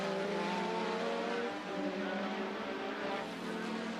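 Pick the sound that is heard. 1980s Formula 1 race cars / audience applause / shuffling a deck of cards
1980s Formula 1 race cars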